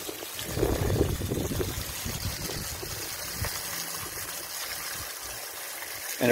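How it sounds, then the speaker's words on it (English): Water leaking and trickling behind outdoor stairs into a building unit, a soft continuous dribble with a few louder splashes early on, close and fairly quiet. "Water is leaking"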